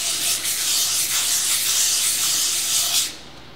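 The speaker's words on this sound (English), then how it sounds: "I'm going to do the other two with the sandpaper and the hammer" Sandpaper rubbed quickly across a Blue Diamond pan's nonstick surface, a close continuous hissing scrape lasting about three seconds before stopping abruptly.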